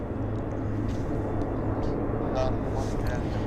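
An Air North airliner on the runway at Vancouver YVR airport in winter gives off a steady, distant engine rumble, a low broadband roar that holds level throughout with faint higher hiss above it.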